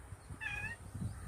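A mother cat gives a single clear meow, close and fairly quiet, over faint background noise.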